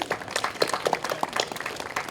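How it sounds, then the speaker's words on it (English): A crowd at an outdoor Australia Day ceremony in Lithgow claps together, a dense patter of many hands at moderate distance that keeps going steadily throughout. "So give Ruben a big hand of applause"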